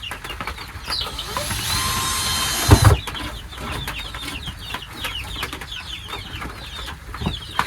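Chickens in a coop being fitted out with wood shavings, scattered clucks and short calls over a continuous buzz from a power tool that stops abruptly, followed by a clattering thump and more clucking.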